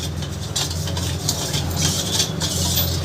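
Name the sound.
stirring sugar into raw mango sharbat until it melts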